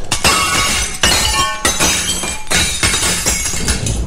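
Porcelain Chinese vase shattering in a Tintin animated film, with several sharp glass-like crashes and tinkling fragments at roughly one-second intervals, loud and close with no talking.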